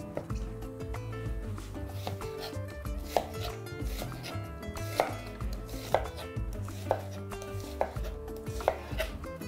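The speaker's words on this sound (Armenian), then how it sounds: "կվերցնեմ 2 գլուխ սոխ, կտրատում ենք փետրաձև" A knife slices two onions into thin feather-shaped strips on a cutting board, sharp regular chops landing about once a second over a quiet kitchen background.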